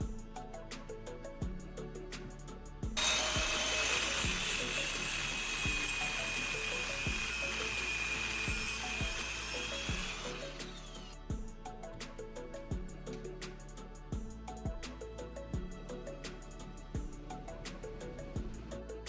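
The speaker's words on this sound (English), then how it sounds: "My goal here is to cut the outer race of the bearing into 2 equal halves." An angle grinder cuts through a steel bearing's outer race, a loud high-pitched grinding whine for about seven seconds over steady rhythmic background music that plays alone before and after.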